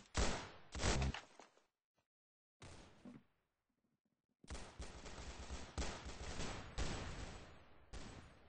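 Gunfire in the video game Arsenal comes as loud clipped bursts of rapid shots, separated by silent gaps and then several dense volleys in close succession.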